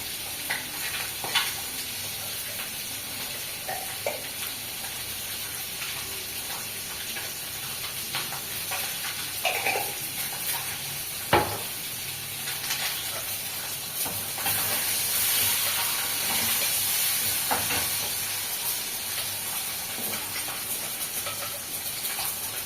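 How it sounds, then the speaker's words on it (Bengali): Papaya frying in hot oil with a mustard seed tempering, a steady close sizzle broken by occasional clinks and scrapes of stirring in the pan, with no talking. "পেঁপে দেবো সর্ষে ফোড়ন"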